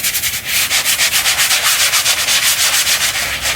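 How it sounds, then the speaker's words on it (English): Rhythmic sanding strokes on a concrete pool deck, a fast back-and-forth scraping rub repeating evenly at close range. "we're gonna be doing some sanding like this."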